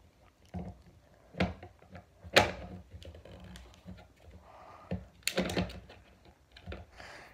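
A battery pack clicks into a Baofeng UV-5 handheld radio, giving a few sharp plastic snaps and knocks spread across the moment, close and fairly quiet, with no voices.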